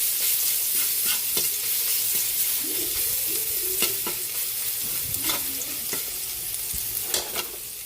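Garlic, onion and celery sautéing in a hot pan for ginisang sayote, a steady close sizzle and hiss with occasional utensil scrapes and taps as the pieces are stirred, with no voices.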